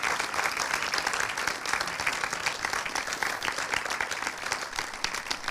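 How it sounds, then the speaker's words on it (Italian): A theatre audience at an Italian film presentation gives sustained, dense applause that stays steady and loud without a break for several seconds. "ti facciamo un altro grande applauso"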